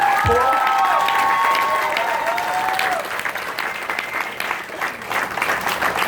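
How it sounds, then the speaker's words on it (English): Warm, loud audience applause with some cheering at an event honoring a suicide prevention walk organizer, steady crowd clapping with a brief whistle-like tone early on. "please give a warm round of applause"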